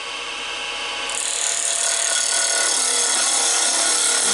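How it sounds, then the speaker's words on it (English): Bowl gouge cutting a banksia pod spinning on a wood lathe, a steady abrasive scraping hiss that grows louder and brighter after the first second and continues without pause. "When I come in with the bowl gouge, the back end of the bevel goes in at 90 degrees."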